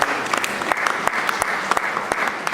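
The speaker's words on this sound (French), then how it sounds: "Acclamons pour le Seigneur." A congregation at a funeral service bursts into brisk, dense applause, many hands clapping together in a close, lively burst that lasts a few seconds.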